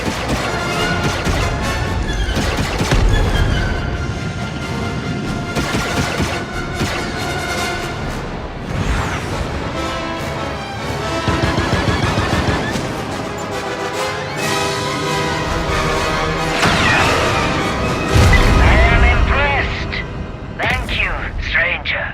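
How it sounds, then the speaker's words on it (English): Loud, rapid turret gunfire in the Star Wars Outlaws video game, heavy repeated blasts and crashes layered with music and game effects, sustained for the whole stretch. "Turret activated, Kay."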